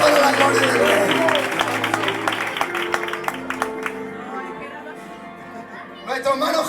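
Church congregation applauding at a Villaverde church anniversary service, sustained dense clapping that thins into scattered claps and fades, with voices and music-like tones underneath.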